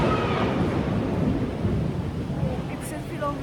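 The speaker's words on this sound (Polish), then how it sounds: "Jeszcze na zewnątrz jest burza." A thunderstorm rumbles outside a small airport, with a low, steady roar of thunder and rain and some wind buffeting the microphone, continuous and fairly loud throughout.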